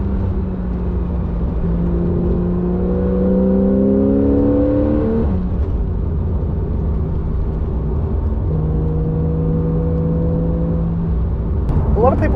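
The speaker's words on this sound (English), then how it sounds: "a squeeze of the throttle and out you go. You just get fired out of that corner." Sports car, apparently a Porsche Cayman GT4, accelerating hard out of a corner: a close engine note rises steadily in pitch through the revs, eases off briefly, then climbs again under continuous cabin-like rumble.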